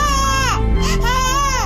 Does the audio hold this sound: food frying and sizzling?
no